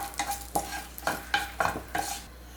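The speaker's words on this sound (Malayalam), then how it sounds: "എണ്ണ ചൂടായിട്ട് വരുന്ന സമയത്ത് ഇതിലേക്ക് ഒരു ബേ ലീഫ് ഇട്ട് കൊടുക്കുന്നുണ്ട്, 2 ഏലക്കായ, ഒരു കഷ്ണം കറുകപ്പട്ട" A bay leaf, two cardamom pods and a piece of cinnamon are stirred in hot oil for dum aloo, giving about six quick scraping strokes over a sizzle, close and with no speech.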